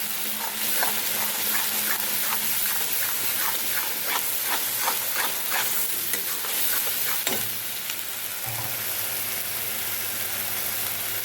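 Onions and garlic frying in a pan for Bengali katla kalia crackle and hiss loudly at close range, with rhythmic scraping stirs during the first seconds, then a sharp clatter and a quieter, steadier sizzle.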